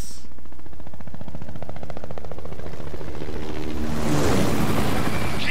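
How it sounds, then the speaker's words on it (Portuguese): A helicopter's rotor thumps rapidly and steadily in the video game Spec Ops: The Line, then a burst of noisy explosions or gunfire swells near the end; no talking. "Chegamos no helicóptero."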